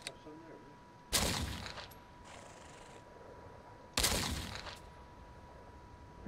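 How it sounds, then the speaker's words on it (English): Gunfire from a Western outlaw video game, two loud bursts of shots aimed at bandits, each sharp and dense then trailing off, separated by a few seconds of low background noise. "Shooting the bandits"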